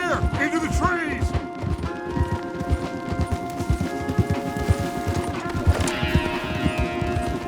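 Horses' hooves clip-clop steadily over ground in a Red Dead Redemption 2 game scene, a dense repeated clatter running throughout with a brief whinny early on, a tonal music bed and a voice speaking over it.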